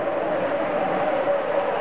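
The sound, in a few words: model train running on layout track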